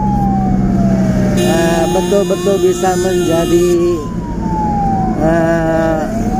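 An ambulance escort siren wails and yelps through heavy traffic, rising and falling sweeps with engine rumble beneath, while someone talks over it.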